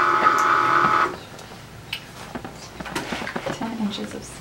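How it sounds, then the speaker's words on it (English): A Cricut Maker cutting machine gives a steady mechanical whir with a tonal hum for about a second after power-on, then falls quiet to soft clicks and shuffling noises. "So then we're gonna turn it on. I can't see. It is whirring and thinking."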